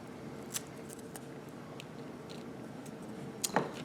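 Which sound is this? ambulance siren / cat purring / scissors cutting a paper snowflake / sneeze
scissors cutting a paper snowflake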